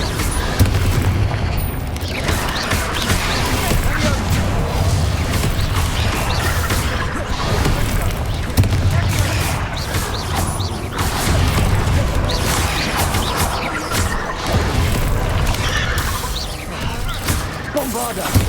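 Repeated Bombarda explosion spells booming through a Hogwarts Legacy battle, dense continuous low blasts and crashes layered with other spell effects, loud and near, with a voice calling out throughout.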